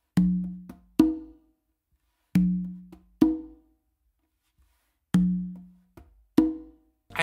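Conga drum playing an a caballo variation: recurring groups of sharp hand strikes mixing soft finger ghost notes with ringing open tones, heard alone in a steady, spaced rhythm.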